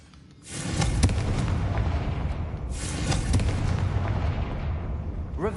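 Confringo blasting spells go off in Hogwarts Legacy as fiery explosions. Two loud, sudden blasts hit about two seconds apart, each followed by a long rumbling tail, with no one talking.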